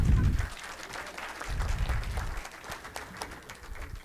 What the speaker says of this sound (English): We can clap for the group.